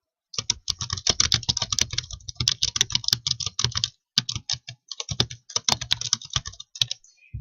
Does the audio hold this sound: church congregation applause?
no